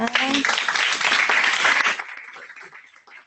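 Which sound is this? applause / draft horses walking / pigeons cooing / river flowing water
applause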